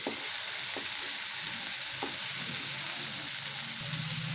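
Semolina fries with tomato and chopped chilli in a pan, giving a steady, dense sizzle throughout, with a few soft spatula scrapes close by.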